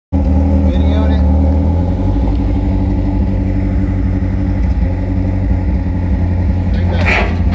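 An abandoned Mazda Speed 3's engine runs as the car backs off a trailer, a loud steady low rumble throughout with a brief higher noise near the end.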